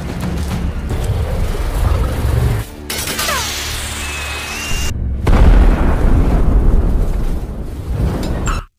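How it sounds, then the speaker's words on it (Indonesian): A ship explodes in a series of loud, heavy booms and rumbling blasts with crackling debris. The noise drops out briefly in two places, then swells again into a sustained roar that lasts for most of the clip. "kapal tersebut meledak"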